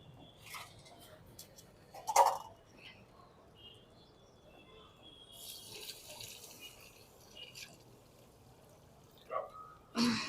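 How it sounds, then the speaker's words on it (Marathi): Water is poured over 1 kg of washed jeera rice in a cooking pot for tahiri biryani, a faint, quiet pour with a couple of soft knocks. "त्यात आता पाणी टाकूया."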